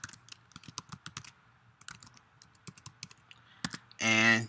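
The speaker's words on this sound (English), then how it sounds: "You will type in your username," Rapid clicks of keys on a computer keyboard as a username is entered, a quick irregular run of sharp taps with a short pause, then a loud tonal beep or chime at the end.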